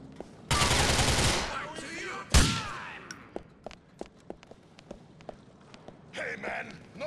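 Gunfire erupts in Grand Theft Auto IV on PC: a long, loud burst of automatic fire, a second heavy blast, then scattered single shots and sharp clanks trailing off, with a voice calling out in the middle.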